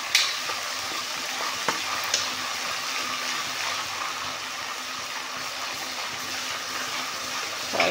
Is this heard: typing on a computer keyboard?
no